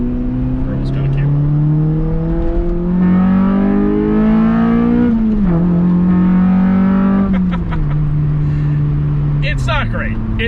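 A Honda Del Sol with a damaged exhaust drones loudly from underneath, its low, hollow tone rising and falling with the revs throughout, close up.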